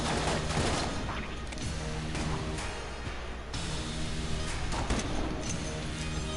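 Rapid gunfire in a shooter video game, a dense continuous barrage of shots with ricocheting bullets, loud and close with little letup.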